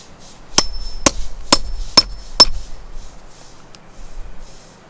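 Five sharp, evenly spaced hammer taps on a grommet setting tool while repairing an RV rug, loud and close with ringing metallic strikes, followed by quiet.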